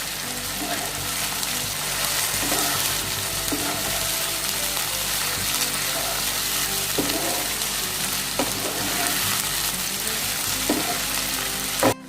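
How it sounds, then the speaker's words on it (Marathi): Dried red chillies with stems removed sauté in hot oil in a pan while a masala for Punjabi dum aloo is prepared, giving a loud, steady, continuous sizzle with faint stirring scrapes throughout. "हे पण याच्यासोबत छान परतून घेऊया"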